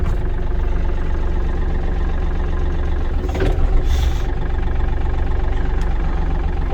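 A Yanmar AF230 cab tractor engine runs steadily with a deep, even diesel drone close by, a brief rougher surge midway as the clutch is dropped, then settling back into a constant idle-like hum.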